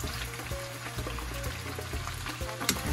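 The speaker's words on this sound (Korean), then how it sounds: "야채도 집에 있는 거, 새송이, 양파, 저는 파프리카 이렇게 세 가지 넣어서 넉넉하게 이렇게 볶을게요" King oyster mushroom, onion and paprika stir-frying in olive oil for gambas al ajillo, a steady close sizzle with faint stirring scrapes throughout.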